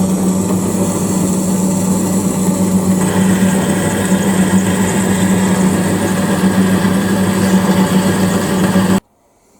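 A bandsaw cuts two small wooden blocks for a low-profile vise clamp, giving a loud, steady whining hum that stops abruptly near the end.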